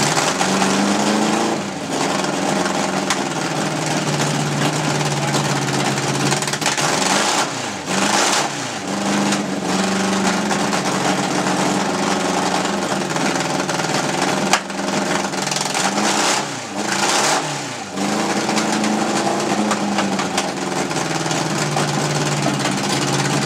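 Paul's motorcycle engine runs in a loud, raspy, continuous drone up close, with repeated dips and surges as the throttle is blipped, and no voices.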